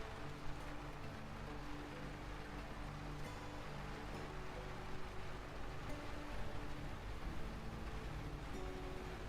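Steady rain in the video game Lightyear Frontier, an even hiss of falling drops alone, with soft sustained music tones running underneath throughout.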